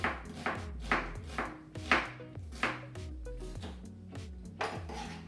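A knife slices through onions on a cutting board with a steady run of crisp, close chops, about ten strokes spaced roughly half a second apart, each with a dull thud from the board.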